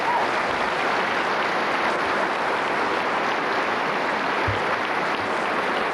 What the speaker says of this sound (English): Now you can give them a round of applause.